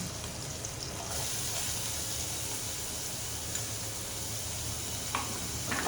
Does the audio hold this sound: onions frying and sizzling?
yes